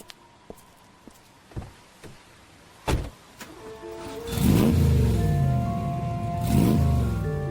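A car pulls away in a radio drama, starting with a few scattered knocks and clicks and then a rising engine whir and revving surge that swells twice before easing off.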